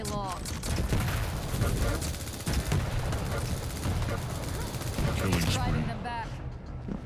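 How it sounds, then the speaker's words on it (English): A super nail gun fires rapidly in Quake Champions, a dense continuous stream of shots over several seconds, loud and close, with someone talking over it. "The super nail gun is probably the hardest weapon to use because it's a rapid fire projectile."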